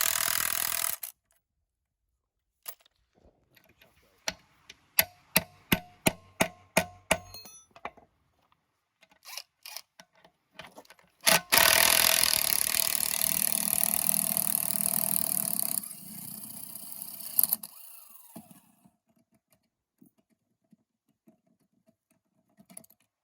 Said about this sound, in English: Just gonna try and remove this bolt.